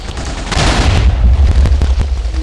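A cannon blast in a video game, a loud rumbling boom that swells after half a second and keeps roaring through the whole stretch, with no talk over it.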